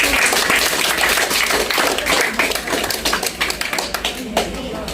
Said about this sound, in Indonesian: Kita tepuk tangan sekali lagi untuk kita.